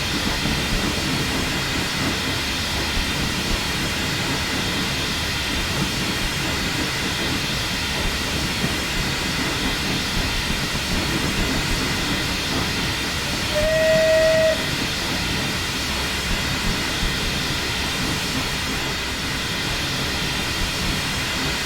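A steam train in a Train Simulator 2020 game chugs and hisses steadily for a long stretch as it arrives, with a brief whistle blast partway through, constant and fairly loud.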